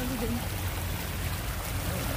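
Floodwater after a night of heavy rain rushes in a steady, dense wash of noise with a faint voice under it.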